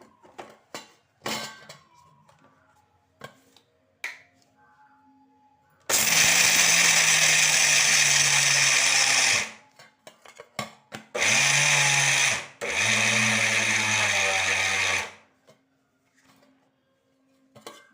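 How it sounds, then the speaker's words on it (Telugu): A kitchen mixer grinder blends sweetened dal into a smooth paste, running in three loud bursts of steady whirring with short quiet pauses and faint clatter between them. "ఇప్పుడు దీన్ని మిక్సీ పట్టాలి"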